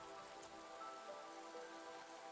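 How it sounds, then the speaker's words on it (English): Light drizzle patters softly and steadily in the video game Against the Storm, a faint continuous hiss of falling rain with no talking over it. "Well, it's drizzle."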